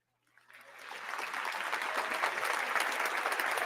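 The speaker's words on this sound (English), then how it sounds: "I'm going to give you a round of applause." Applause from a small group rises quickly out of silence and holds as steady, dense clapping, fairly close and moderately loud, with no talking.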